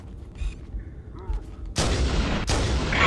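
Two loud, close blasts of gunfire in Halo: Combat Evolved Anniversary during Legendary co-op play, the second following the first by under a second, after a quiet stretch with faint game sounds and a brief voice.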